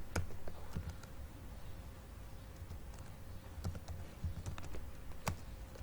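Keys tapped on a computer keyboard while coding in PHP, scattered quiet clicks in short irregular bursts against a low background hum, no one speaking.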